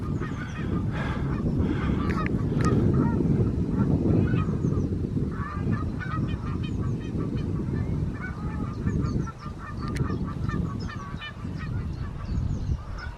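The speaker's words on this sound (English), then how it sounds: "Is it geese? It's geese" A flock of geese honks continuously, many overlapping calls with rhythmic repeated honks, at moderate distance against outdoor background noise.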